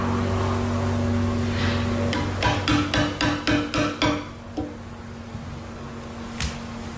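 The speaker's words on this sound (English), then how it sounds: "grab the little hammer, hammer it down" A burst of about eight sharp metallic hammer strikes with a small hammer on truck hardware while building a lifted Ford F-250, in quick, steady succession, fairly close, over a constant low mechanical hum, with a single faint tap afterward.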